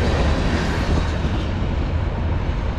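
A Norfolk Southern or CSX freight train rolls past on the Conrail Lehigh Line, a steady, loud, close rumble of wheels and cars with no break and no voices.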